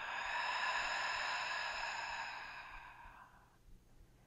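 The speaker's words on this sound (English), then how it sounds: "Inhale through the nose to the belly. Open mouth, exhale." A slow, open-mouthed exhale during a gentle yoga breathing exercise. One long, soft, breathy rush of air close to the microphone fades gradually over several seconds until it trails off into quiet.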